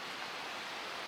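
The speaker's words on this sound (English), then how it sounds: "You can hear the creek in the background." A creek flows in an Alaskan forest, a faint, steady hiss of running water heard alone for a brief moment.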